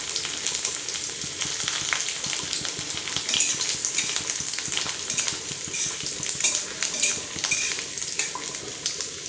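Dried red chilies and ginger frying in a pan for khichuri, a dense continuous sizzle with frequent utensil scrapes and clinks, loud and close, with no voices.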